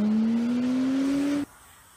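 Porsche Carrera with a Fabspeed exhaust and 550 horsepower driving off, a rising engine note climbing steadily for over a second before cutting off sharply, leaving a quiet background.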